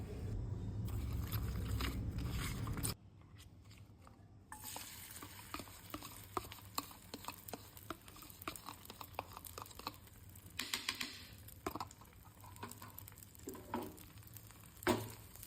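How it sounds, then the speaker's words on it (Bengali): An egg going into a hot oiled pan on a home stove, with a brief steady sizzle that gives way to scattered stirring and scraping clicks, all fairly quiet and close, with no talk. "এবারে ডিমটাকে আমি এখন প্যানে দিয়ে দেবো।"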